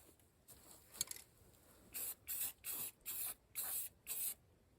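Several short bursts of aerosol spray paint hit the front axle of a cheap lawn tractor, six even hissing blasts in a steady rhythm, close and loud, after a few faint rattles and taps.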